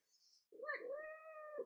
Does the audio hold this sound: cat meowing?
yes